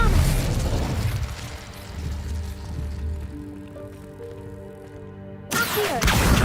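Incendio and Expelliarmus spells cast in the game Hogwarts Legacy, with bursts, pops and crackling magic effects under a sustained tonal hum, a quieter stretch, then a sudden loud burst of noise near the end.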